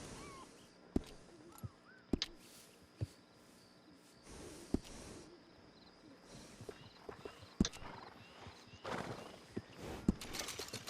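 Horse hooves clip-clop in Red Dead Redemption 2, in scattered, uneven steps, with a few sharp knocks standing out over a soft ambient background.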